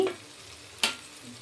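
A spiced mixture of chilli powder, salt, garam masala and coriander powder fries in a pan while being stirred, giving a soft low sizzle with one sharp scrape of the spoon midway, no talking.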